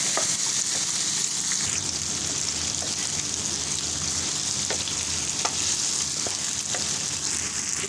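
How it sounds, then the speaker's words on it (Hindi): Potatoes cooking with minced meat keema in a hot pan, producing a steady close sizzle and frying crackle with occasional stirring clinks throughout. "अब डाल दिया मैंने आलू।"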